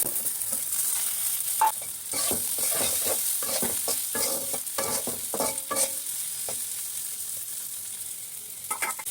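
Onions and chilies fry in a hot pan until reddened, a steady sizzle broken by frequent sharp scrapes and clatters of a spatula stirring them, close and fairly loud.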